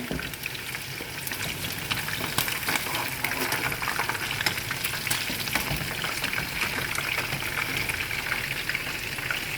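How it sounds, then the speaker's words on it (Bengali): Chicken frying in a pan sends up a constant close sizzle with crackling pops throughout, with no voices. "তো চিকেনটা বাজা হয়ে গেছে"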